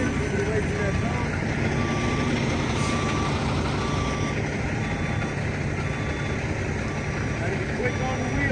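A truck reverses slowly around cones on a driving-training course, its backup alarm beeping steadily over a constant low engine rumble, with faint voices in the background.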